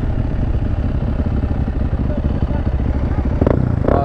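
A quad ATV engine bogs and sputters with the choke left on, a close, loud uneven rumble running throughout with a couple of brief bursts near the end, while a person talks over it.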